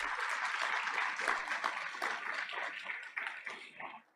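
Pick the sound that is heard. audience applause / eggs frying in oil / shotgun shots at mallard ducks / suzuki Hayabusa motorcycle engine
audience applause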